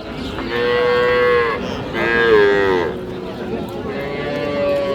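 A young Holstein Friesian heifer calf at a village cattle market bellows loudly and close by, giving three long drawn-out moos separated by short pauses.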